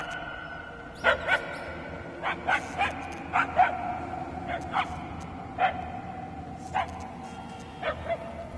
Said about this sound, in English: We are no closer to the source of the barking.